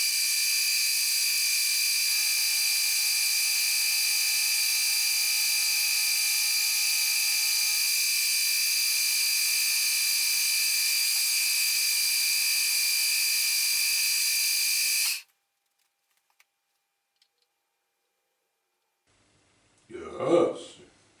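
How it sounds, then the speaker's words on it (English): A small 4 mm end mill on a milling machine cuts a steel key to 12 mm length with a steady, high, piercing whine. It runs for about fifteen seconds and then stops abruptly, followed by near silence and a brief rough burst of noise. "To cut my future key to length of 12 millimeter, I installed a cute little 4 millimeter end mill."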